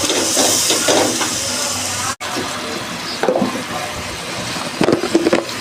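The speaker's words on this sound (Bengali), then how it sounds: "এখন একটু নেড়ে চেড়ে নিব।" Spiced curry of snakehead fish and bottle gourd is stirred in a frying pan after turmeric and coriander powder go in, giving a steady close sizzling hiss with scattered scraping stirs and brief pauses.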